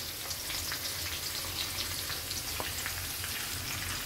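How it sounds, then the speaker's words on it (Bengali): Spices with onion, ginger paste, garlic paste and ground turmeric, chili, coriander and garam masala frying in a pan, a dense steady sizzle close by with small pops throughout. "কয়েক সেকেন্ড মশলাগুলো ভেজে নেব"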